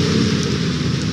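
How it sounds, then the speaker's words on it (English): Steady rain hisses and patters as a dense, continuous wash of noise, close and fairly loud, with no voices. "So hopefully the rain kind of lets up a little bit"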